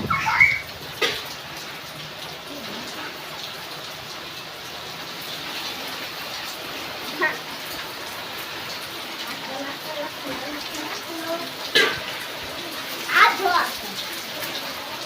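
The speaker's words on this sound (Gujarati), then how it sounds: "ગામમાં વરસાદ શરૂ, પવન સાથે વાવાઝોડું." Rain falls with wind over a village, a steady soft patter and wash with a few louder knocks and splashes, and voices speak intermittently over it.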